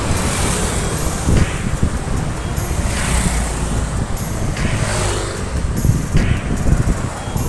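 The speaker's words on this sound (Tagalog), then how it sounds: "Ang hangin." Strong gusting wind buffets the microphone in loud rushing waves on a high bridge along the Davao coastal road, with a low rumble of passing traffic underneath.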